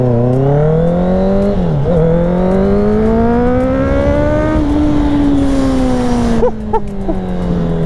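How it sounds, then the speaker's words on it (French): A four-cylinder motorcycle engine revving hard under acceleration, loud and close, its rising tone dipping briefly at a gear change before climbing again, then easing off near the end with a short burst of noise. "Et le son du 4 cylindres, attends écoutez-moi ça."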